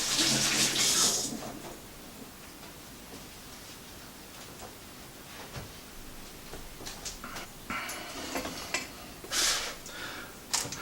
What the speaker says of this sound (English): I'm just going to wash my hands back in a jiffy